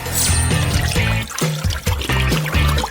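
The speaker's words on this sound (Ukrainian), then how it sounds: "Для цього треба розчинити цукор в киплячій воді." Boiling water pours and splashes into a container to dissolve sugar, a loud, continuous gurgling stream with bubbly surges and no talk over it.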